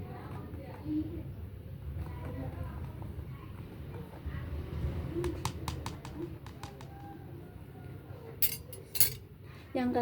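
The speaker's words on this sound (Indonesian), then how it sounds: "Aduk hingga merata." A spoon stirs cooking oil in a glass, giving a quick burst of clinking strikes against the glass under speech, with birds cooing in the background.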